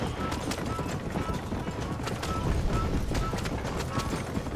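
Horse hooves galloping in the video game Red Dead Redemption during a race, a rapid, continuous clip-clop under dense game noise.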